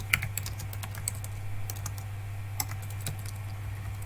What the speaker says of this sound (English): let me type in something here so that we know that the program has started